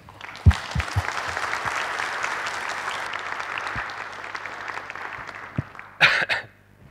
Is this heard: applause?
yes